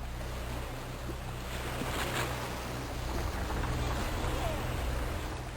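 Water flowing in the game Blood, a continuous rushing wash with a low rumbling undertone, steady and fairly quiet throughout, with no talking.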